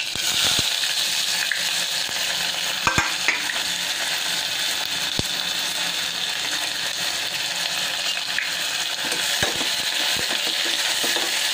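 Chili and onion frying in hot oil with curry leaves, cumin and garlic for dal, giving a steady close sizzle broken by occasional clinks and scrapes of stirring.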